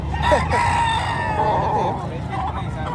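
A rooster crows loudly and close by at a busy chicken market in Padre Garcia, Batangas, its long call standing out over crowd babble and clucking fowl.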